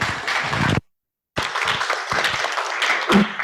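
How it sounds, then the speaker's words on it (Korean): Audience applause welcoming a presenter at a youth politics and basic income conference session, a burst of clapping that cuts out briefly, then resumes as steady, fairly loud clapping with a few stronger claps near the end. "역시 큰 박수로 환영해 주시기 바랍니다"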